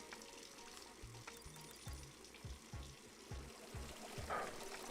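Water pouring into a brewing kettle in the Brewmaster beer brewing simulator game, a faint running trickle under a repeating series of soft low thuds, with no talking.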